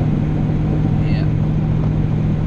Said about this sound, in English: I forget how loud it is in this truck